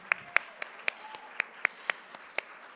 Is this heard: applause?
yes